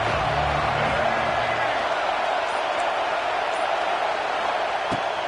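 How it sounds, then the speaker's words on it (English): A Texas football stadium crowd roars in a dense, steady wash of noise that holds at the same high level throughout, with a few faint distant thuds near the end. "this crowd trying to help keep them there"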